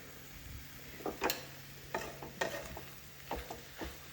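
Red chili powder and turmeric stirred into hot oil with cumin and mustard seeds give off a faint sizzle, broken by a few sharp spoon scrapes and taps against the pan.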